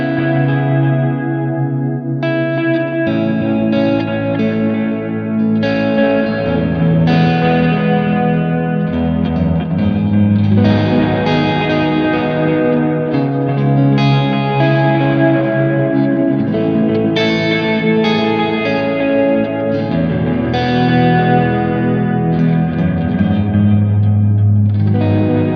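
Electric guitar chords played through a Line 6 Helix with a worship-style tone, slightly down-tuned and semi-ambient, with chorus, echo and reverb smearing sustained chords that ring continuously at steady loudness with no talking.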